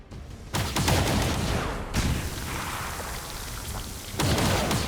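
Shredstorm cannons firing in the game XCOM 2, a dense, roaring barrage of rapid crackling blasts that comes in two loud waves with a brief break between, no voices over it.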